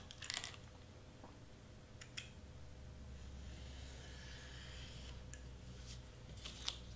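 Paper being cut with scissors on a self-healing mat while party favor wrappers for chocolate bars are assembled, a few short crisp snips near the start and more scattered cuts later over a steady low room hum.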